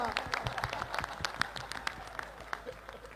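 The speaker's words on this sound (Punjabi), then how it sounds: "ਠੋਕ ਕੇ ਮਾਰੋ ਤਾੜੀ, ਜਰਾ ਮਾਹੌਲ ਕਰੋ ਗਰਮ" Crowd applauding at a political rally for Navjot Singh Sidhu, a dense patter of many hands clapping close and steady, with voices under it.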